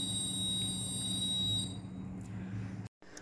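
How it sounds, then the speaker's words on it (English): A smart pulse oximeter sounds its medicine reminder, set to beep for 10 seconds, as a steady high electronic beep tone that holds for about a second and a half, then fades into faint room noise. "It will beep for 10 seconds and display the message take medicine."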